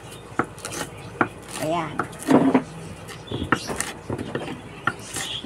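A knife chops Bicolano chili peppers on a board, with scattered irregular taps and scraping cuts as a person speaks throughout.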